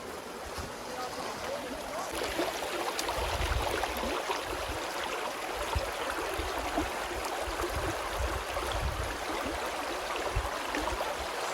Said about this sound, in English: It's a little babbling brook.